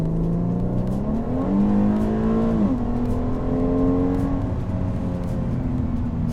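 A Mercedes-Benz SLK 350 V6, a 2015 R172 roadster, accelerates hard, its engine note climbing steadily through several gear changes, loud and close throughout with no talk.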